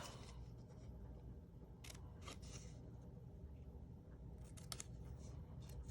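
Scissors snip through stamped paper for a candy cane holder, with several crisp, close cuts spaced irregularly over a quiet background.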